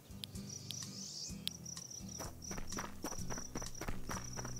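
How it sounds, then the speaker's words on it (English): Footsteps patter continuously in the video game Zoo Simulator, faint and quick over a dense background of insect-like chirping and ambient game sounds, with no talking. "I need the footsteps a little lower, please."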